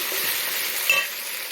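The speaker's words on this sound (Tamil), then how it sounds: "கொஞ்சம் தக்காளி வதங்கிறதுக்கு மட்டும் நம்ம கொஞ்சமாக உப்பு போட்டுக்கிறோம். நல்லா வதங்கி வரட்டும்." Tomatoes sautéing with a little salt in a hot pan make a steady, close, hissing sizzle with a faint scrape of stirring partway through, no voices over it.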